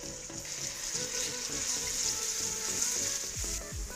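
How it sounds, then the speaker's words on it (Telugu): Ginger garlic paste and half a teaspoon of turmeric powder fry in hot oil with a steady, close sizzle, and a few stirring knocks come near the end. "హీట్ అయిన తర్వాత 1 spoon ginger garlic paste, half tea spoon turmeric powder వేసుకుని కలుపుకోవాలి"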